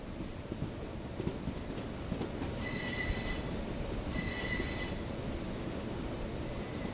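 A Mysore special fare train rolls past through a steady rumble, with two distinct bursts of high-pitched wheel squeal rising over the continuous rail noise, fairly close and loud, with no voices.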